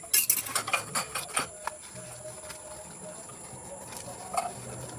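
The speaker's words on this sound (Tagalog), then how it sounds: "Hugas muna tayo ng plato." Dishes and cutlery being washed by hand at home, with a burst of close clinks and clatter at the start, then softer intermittent chinks over a faint patter of water.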